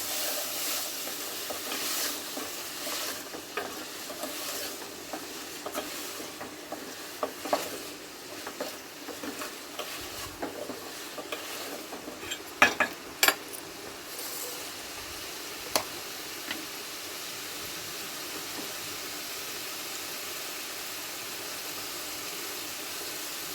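Vegetables with prawns sizzle steadily in an oily pan while cumin powder and spices are worked in, with intermittent scraping and clinking spatula strokes against the pot and no talking.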